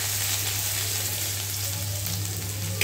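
Raw ginger and garlic fry in a pan of oil for a Bombay duck curry, giving a steady, close, continuous sizzle over a low hum for the whole stretch. No voices are heard.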